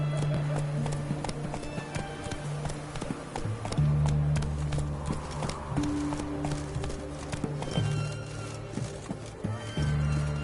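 A horse in The Witcher 3 gallops in a rhythmic, thudding clip-clop that runs throughout, with game music playing underneath.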